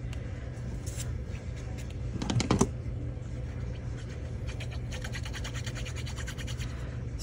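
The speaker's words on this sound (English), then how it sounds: "That's my my washing machine." A loud household washing machine runs nearby as a steady low churning rumble with brief scraping and rattling bursts.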